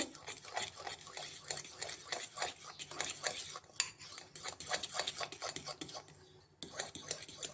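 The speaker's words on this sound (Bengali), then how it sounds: "ইনো এগুলো দিয়ে ভালো করে মিক্সড করে নেব" Batter being mixed by hand with Eno, a quick rhythmic run of wet scraping and stirring strokes against a bowl, close and steady, with a short pause before the stirring resumes.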